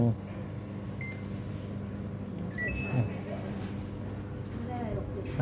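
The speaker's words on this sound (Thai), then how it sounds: "ตอนนี้มอเตอร์เด่นทำงานตลอดนะเนี่ย" A Samsung top-load washing machine's drain motor runs continuously with a steady low hum, accompanied by faint beeps and someone talking over it.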